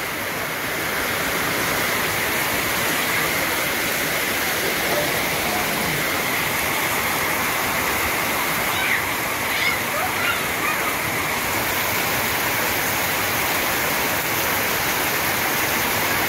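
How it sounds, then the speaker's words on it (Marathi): Heavy monsoon rain pours down in a dense, unbroken roar across the whole stretch, loud and close, with a voice speaking faintly beneath it. "आता नाही असा भयंकर पाऊस यायला लागलाय"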